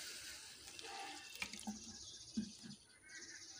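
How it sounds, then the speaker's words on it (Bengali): Water is poured into a wok of raw mangoes sitting on a gas stove, a steady, fairly quiet splashing stream with a couple of brief knocks against the pan. "এবারে আমগুলোতে জল দেব পরিমাণ মতো"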